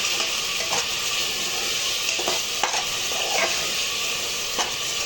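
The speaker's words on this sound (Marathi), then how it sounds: "हे वाटण पण आता ह्याच्यात घालूया आणि त्याला पण चांगलं असं मध्यम गॅसवर परतून घेऊया" A ground paste of mint and green chillies sautés in a pan over medium heat, giving a close, even sizzle with a few sharper spatula scrapes and stirring clicks, and no voices.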